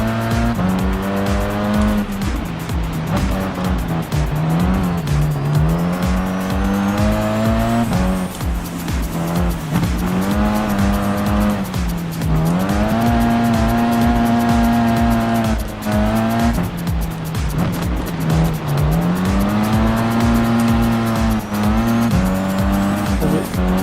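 Rally-mode cars in the racing game Gran Turismo Sport roar continuously with loud engine notes rising and falling through gear changes, tires squealing and sliding on loose surfaces, without pause.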